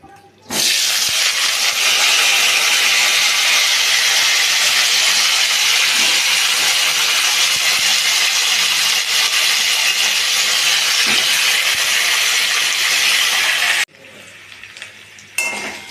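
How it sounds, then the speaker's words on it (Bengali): Cauliflower florets added to hot oil in a pan after half-fried potatoes, giving a loud, continuous close-up sizzle that cuts off abruptly near the end, leaving quiet clatter before a short resumed burst. "আলু ভাজা হয়ে গেছে, আধ ভাজা করে নিয়েছি আলু। এবারে ফুলকপিগুলো দিয়ে দেবো।"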